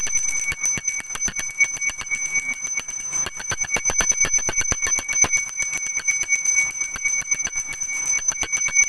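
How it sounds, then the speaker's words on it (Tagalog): A handheld bell rung to drive spirits from a house, sounding as a steady run of rapid bright strikes that ring on continuously and close for the whole stretch, with no talk over it. "Mag-bell lang po kayo dyan sa bahay po ninyo."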